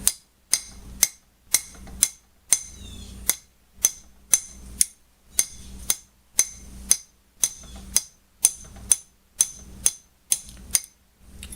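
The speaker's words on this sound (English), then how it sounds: "You're going to tap this with your hammer." Sharp metallic hammer taps on a metal vise during restoration strike in a steady rhythm, about twenty ringing hits close up with brief pauses between them.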